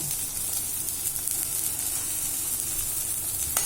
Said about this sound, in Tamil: வெண்டிக்காய் நல்லா வதக்க வச்சுக்கணும்